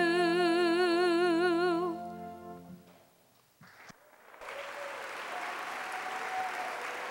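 Commencement crowd applause for a graduating class, with sung alma mater harmony ending first, then a short lull before steady broad clapping rises and fills the hall.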